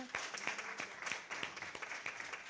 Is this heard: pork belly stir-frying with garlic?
no